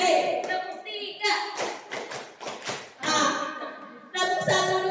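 Rapid bursts of hand claps from a classroom clapping game, several crisp slaps clustered in the middle, framed by children's chanting voices before and after.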